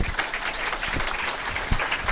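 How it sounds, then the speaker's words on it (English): Audience applause at a Startup Grind tech conference in Silicon Valley, a steady dense clapping wash from a crowd that holds at an even level for the full couple of seconds. "Can we give Anne a big round of applause?"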